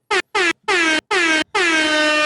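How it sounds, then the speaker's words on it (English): An air horn sound effect blasts loud and close in three short bursts, then a longer held blare, each with a bright, brassy drop in pitch. "I gotta give another air horn."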